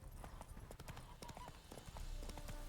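Horse hooves clip-clop in a quick, uneven gallop as a horse arrives in The Witcher 3, the clatter close and clear under a soft game ambience, with no talking.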